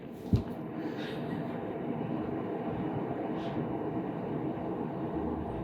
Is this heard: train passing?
yes